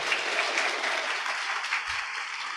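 Steady audience applause at a leader's event, dense clapping from a crowd held at an even level for a couple of seconds with no speech over it.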